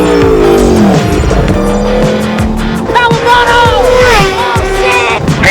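An Aprilia RSV4 Factory superbike fitted with a LeoVince exhaust roars loudly and close, the engine note sweeping down and then climbing again through sharp revs, with voices faintly beneath.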